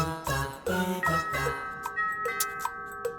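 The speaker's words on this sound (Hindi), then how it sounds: "कोई बेल बजा रहा है" A doorbell chimes repeatedly in a home, bright ding-dong tones ringing several times, first with a short musical phrase, then a few separate sharp rings, fairly close with no talking.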